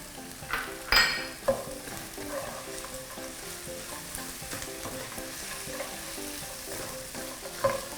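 Steady sizzling of pork cracklings, cashew nuts and spring onions being stir-fried in a hot pan, with occasional clinks and scrapes of a utensil against the metal.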